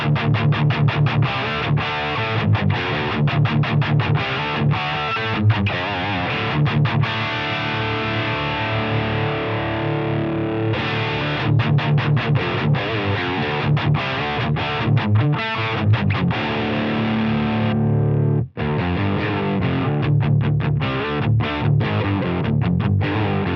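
Electric guitar played through a Noble Screamer overdrive pedal, giving a loud, continuously distorted tone with rhythmic strummed attacks and a brief drop-out near the end.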